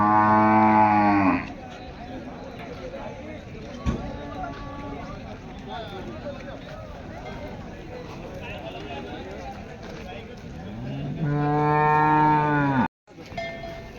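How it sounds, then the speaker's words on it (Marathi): Cows at a village cattle and bullock market moo loudly and close by, one long low call at the start and another near the end. Market chatter and people talking fill the stretch between the calls. "मोठ्या मापाची गाय आहे मित्रांनो"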